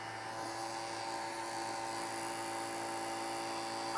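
A noisy electric fan running in fan mode gives a constant whirring drone with steady tonal hum, continuous and fairly quiet, with no talking.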